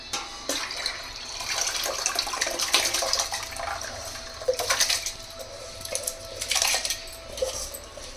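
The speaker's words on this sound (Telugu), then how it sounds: "ఇప్పుడు నానబెట్టుకునే బియ్యం కూడా వేసేసుకుందాం" Soaked rice is tipped into a pot of water for cashew biryani, bringing close splashing and pouring with metallic clinks of a utensil against the vessel in several short bursts.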